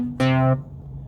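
A Deluge groovebox plays one note from its built-in instrument patch, a bright harmonic synth tone lasting about a third of a second before cutting off, with a low hum underneath.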